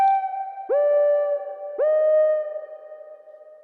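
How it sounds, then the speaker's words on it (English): Three deep, pitched drum hits processed with big room reverb, each swelling into a long, dense reverberant tail that rings on and slowly fades. "just a little bit of wet, make it a big room with some density and color"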